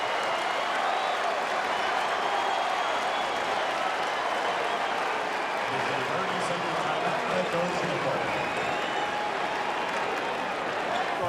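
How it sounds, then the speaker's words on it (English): A packed basketball arena crowd in Brooklyn roars continuously during a timeout at an ACC tournament game between North Carolina and Duke, a dense, loud wall of cheering that holds steady throughout. "Listen to this crowd."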